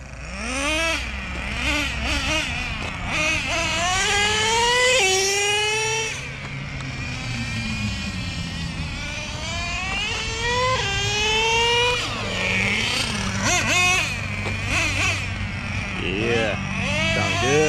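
A Traxxas nitro Revo 3.3 RC truck engine screams and revs through two-speed runs on an offroad track, pitch climbing and dropping repeatedly as it passes near, with people talking and cheering over it.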